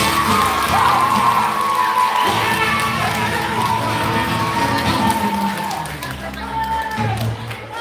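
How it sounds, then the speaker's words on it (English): Schoolchildren at an elementary school concert clap and cheer together, a loud crowd of young voices shouting and whooping over rapid clapping that stays strong, then eases toward the end. "Give yourselves a round of applause."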